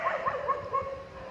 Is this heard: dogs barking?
yes